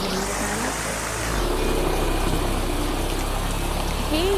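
Steady hiss of rain in the Minecraft video game, with a low engine-like drone underneath and a few faint tonal game sounds, continuous and even in level, no voices.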